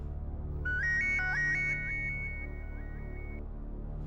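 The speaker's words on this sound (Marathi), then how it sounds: "शिल्पा, फोन केला होतास?" A mobile phone plays a melodic electronic ringtone, a rising phrase of clear tones that repeats and trails off over a low steady hum, with no one speaking.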